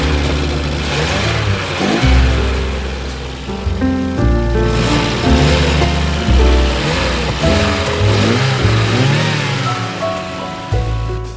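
A 1982 Porsche 924 Turbo engine running loud and close, rough and uneven with repeated surging revs throughout, its note dipping near the end as it falters toward stalling.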